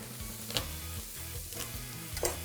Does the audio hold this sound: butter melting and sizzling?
yes